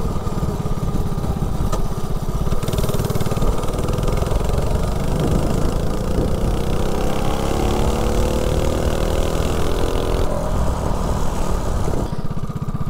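Mini bike with a stock carburetor and no head gasket accelerating from 0 to 30, a loud buzzing single-cylinder engine rising steadily in pitch over several seconds, then easing off near the end.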